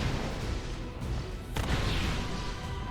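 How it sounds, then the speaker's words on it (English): A small volcano-style explosion effect from an enemy attack in the fantasy action game Tower of Fantasy gives a loud, sharp burst about midway, over a dense, continuous bed of game sound. "Oh, I do like that little volcano explosion thing."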